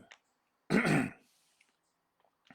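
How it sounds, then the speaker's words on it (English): A single harsh, throaty cough, close and on its own, lasting about half a second in an otherwise quiet space. "Still coughing stuff up."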